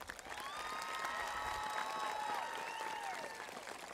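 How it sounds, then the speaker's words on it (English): Applause from a crowd at a high school graduation ceremony, a sustained wash of clapping with a few whistles or cheers over it, fairly distant and faint. "Please give them a round of applause."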